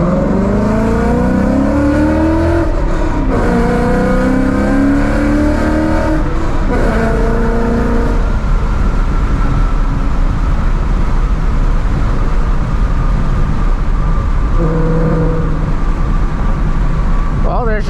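A Ford Mustang engine revs loudly in low first gear while driving at night, rising harmonics climbing and dropping repeatedly, then settles into a steady rumble with another brief rev near the end.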